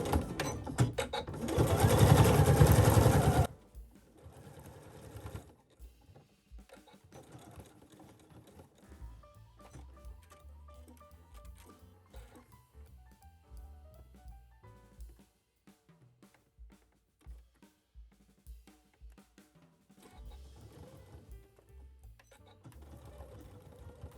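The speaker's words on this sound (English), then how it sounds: "go ahead and top stitch this" Sewing machine top stitching the twill brim of a bucket hat: a loud, dense burst of stitching up front, then quieter intermittent runs of the motor with short pauses and clicks, close by with no talking.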